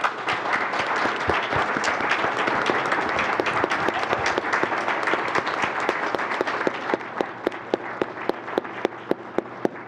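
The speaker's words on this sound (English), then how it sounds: "Let's have a round of applause for our panelists." A large audience at a panel discussion bursts into loud, sustained applause that thins out toward the end into a few scattered, rhythmic claps.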